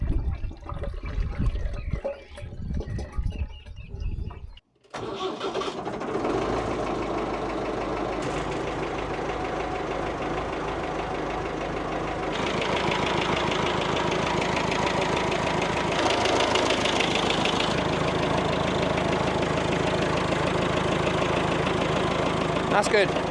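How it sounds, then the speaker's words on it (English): A Massey tractor-digger ticks over at idle, a steady, close mechanical drone with a faint knocking texture that runs on unbroken after a brief, quieter, busier stretch at the start. "this tractor or digger, whatever you want to call it, is only ticking over"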